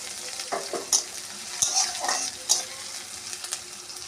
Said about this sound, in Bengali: পেঁয়াজটা হালকা ভাজা ভাজা হয়ে গেছে